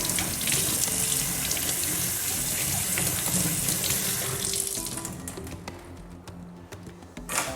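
Fruit and vegetables are washed under a running kitchen tap, a steady close splash and hiss of water that thins out toward the end with small clatters.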